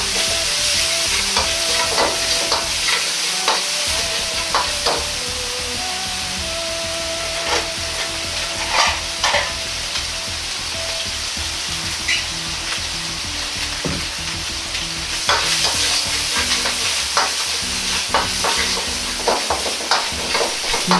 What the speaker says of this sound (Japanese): このように油でパチパチと音がしてくる状態まで炒めます。